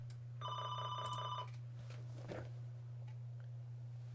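A telephone bell rings in a steady trill for about a second, set over a constant low electrical hum, followed by faint rustling and a brief thump.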